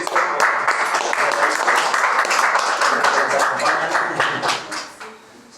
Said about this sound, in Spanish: Vamos a dar palmas a Cristo.